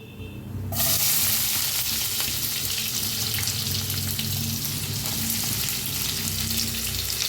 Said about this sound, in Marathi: आता तेल चांगलं तापलेलं आहे, त्याच्यात टाकूया जिरं